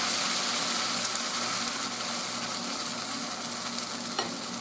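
Pancake batter sizzles loudly and steadily in a hot oiled pan, a dense crackling hiss that carries evenly throughout with no voices.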